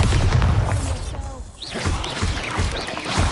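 Heavy booms from the Bombarda explosion spell crash out in the Hogwarts Legacy video game, several blasts with a brief lull in the middle, loud and close amid other combat effects.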